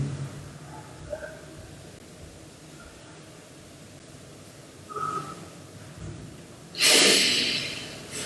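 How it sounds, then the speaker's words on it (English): Slow, smooth ujjayi pranayama breathing sounds as soft, airy breaths over a quiet hiss, ending in one louder, rushing exhale near the close. "smooth breathing."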